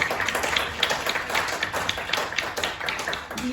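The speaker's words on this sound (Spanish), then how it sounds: "cerramos esta presentación con un aplauso pues para todos" Applause closes the presentation of the novel "Sombras de Tlatelolco" at the ENAH. Many hands clap in a steady, fairly loud, even patter throughout, with no voices over it.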